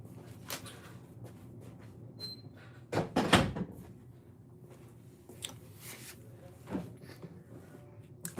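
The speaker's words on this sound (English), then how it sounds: "let me close my door" An outside door is pulled shut, giving one solid, close thunk amid scattered quieter knocks and rustles in a quiet room.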